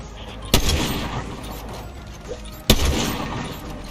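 Two sharp, heavy sniper rifle shots in Fortnite, spaced about two seconds apart, each a loud crack with a booming tail over a steady game soundscape.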